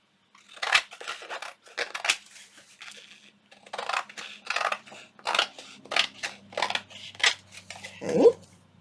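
Scissors trimming fabric pieces for a mini junk journal, a series of crisp close snips in irregular bursts separated by short pauses, ending with a light clink.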